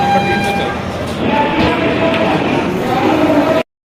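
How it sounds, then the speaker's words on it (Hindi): Mandore Superfast sleeper-class train 22492 running from Delhi toward Jodhpur, a steady rolling rumble and clatter heard from inside the coach with voices over it, then an abrupt cut to silence. "ट्रेन हमारी चल रही है बढ़िया,"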